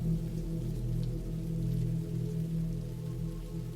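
Steady rain falls in a dense, even hiss and patter, continuous and fairly loud with no voices or breaks throughout.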